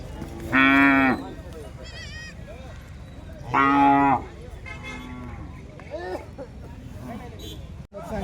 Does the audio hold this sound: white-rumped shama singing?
no